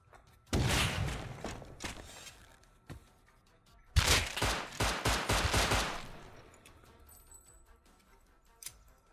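Shotgun fire in the survival game Rust, sounding as two loud bursts of blasts, each lasting about two seconds and separated by a pause, followed by a quieter tail and one short sharp crack near the end.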